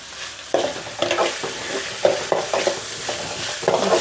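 Chopped tomato being stirred into a hot frying tempering for puffed rice upma, with repeated scraping strokes of a spoon against the pan over a continuous sizzle, close and fairly loud.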